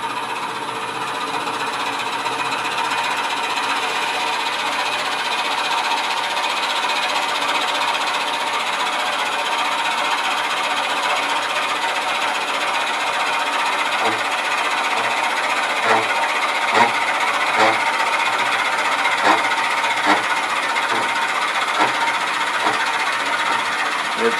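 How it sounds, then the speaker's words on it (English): A drill bores slowly into wood at about 500 rpm, a steady close mechanical whir with a rapid rattling chatter, joined later by faint irregular clicks as chips clear, continuing without speech throughout. "start drilling."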